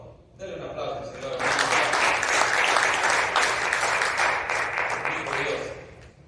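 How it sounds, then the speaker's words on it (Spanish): A church congregation breaks into applause for the Lord, with clapping swelling quickly after a brief voice and continuing full and steady, then tapering slightly at the close. "Denle un aplauso al Señor."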